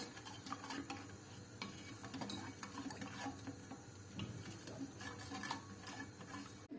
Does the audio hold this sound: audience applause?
no